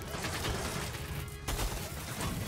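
Rapid foam-dart blaster fire in the game Nerf: Legends, a dense continuous burst of shots running throughout, with a brief dip before resuming loudly.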